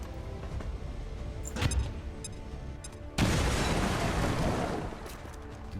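A grenade goes off in a combat video game, a sudden loud boom that leaves a roaring rumble over ongoing battle noise, with no talk.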